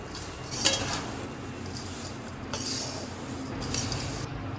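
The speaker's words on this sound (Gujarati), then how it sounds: "હવે બધું જ મિક્સ કરી દઈશું" Nylon poha chevdo ingredients tossed and mixed in a pan, a continuous dry rustle with a few soft scrapes and light taps of the spoon, close and fairly quiet, with no voices.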